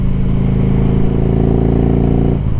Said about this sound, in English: Right when I kind of hit rev limit